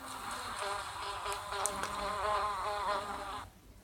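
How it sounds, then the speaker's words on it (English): A bumblebee buzzes steadily and up close for about three and a half seconds, its droning hum wavering in pitch, then cutting off into quiet. "Bumblebee?"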